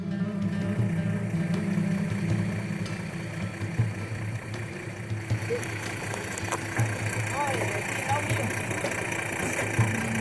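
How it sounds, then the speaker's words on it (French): A truck engine labours without a break up a steep mountain road in Argentina while it overheats. The drone is loud and steady, someone speaks over it, and lighter rattles come in toward the end. "le camion progresse dans la pente. Aucune pause, aucun plat pour soulager la machine. Le moteur commence à chauffer."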